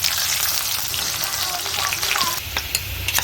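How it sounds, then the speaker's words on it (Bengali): Onions and bay leaves fry in ghee with a loud, dense, continuous sizzle close by, punctuated by crackles and light stirring scrapes toward the end. "এই দু চামচ আমি ঘি দিয়ে দিলাম দেখুন বন্ধুরা এবার আমি পেঁয়াজগুলো দিয়ে দিচ্ছি"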